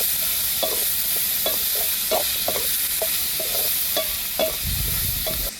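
Curry leaves frying in hot oil in a pan while being stirred, a loud constant sizzle with repeated scraping taps of the spoon against the pan.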